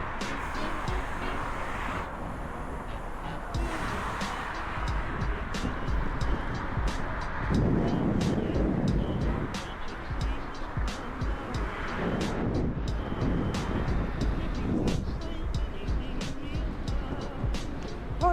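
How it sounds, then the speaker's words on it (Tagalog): Steady, broad rushing evening wind on a bike lane at Mamzar Beach fills the scene, swelling and easing over time, with scattered sharp clicks and faint voices mixed in. "Oh, lakas ang hangin."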